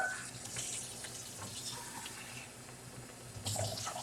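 Water runs from a tap into a sink or container for dyeing yarn, a soft steady gush at low volume that swells louder toward the end.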